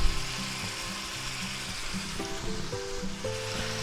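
Onions and mildly hot poblano peppers sizzle in a pan with steady, close frying crackle under tonal background music.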